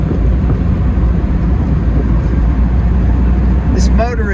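A 1958 VW Karmann convertible cruises in fourth gear, its engine a steady, close low drone mixed with road rumble and wind buffeting throughout.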